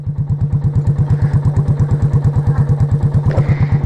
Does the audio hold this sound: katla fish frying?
no